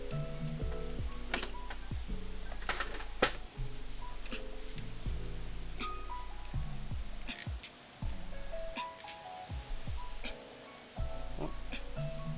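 A grease gun pumps grease into a sway bar fitting on a Mitsubishi Galant ES, several separate clicks and squelching pumps at irregular intervals, close, over a background of music.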